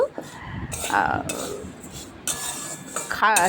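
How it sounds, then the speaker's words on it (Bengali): Moong dal dry-roasted in a kadai without oil, with a spoon scraping and clinking against the metal pan in close, irregular strokes that keep going steadily throughout. "মুগের ডালটা হালকা করে একটু ভেজে নেব শুধু মিষ্টি একটা গন্ধ আসা পর্যন্ত"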